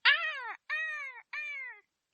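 A crow gives three harsh caws in a row, each about half a second long with short pauses between, loud and close with no other sound around them.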